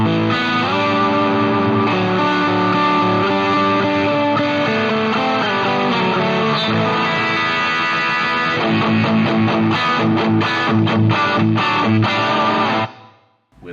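An electric guitar plays through heavy distortion into a Line 6 Helix using a secondary cabinet impulse response. Thick, sustained chords ring loud and continuous, then choppy muted strums follow before the sound stops dead near the end.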